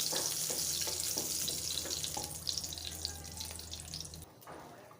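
Whole spices, two bay leaves, two pieces of cinnamon and two cardamoms, fry in oil with a steady close sizzle and a few stirring scrapes, over a low hum that cuts off near the end.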